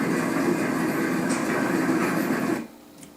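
A clothes dryer soundtrack plays from a Letsfit white noise machine, a steady, loud tumbling rumble that cuts off abruptly near the end, leaving near silence.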